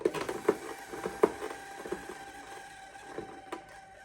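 A keg clicks into place inside an Hkoenig BW1890 beer dispenser, giving a few sharp, close plastic clicks and taps over a faint steady hum.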